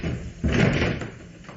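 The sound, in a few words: someone at the door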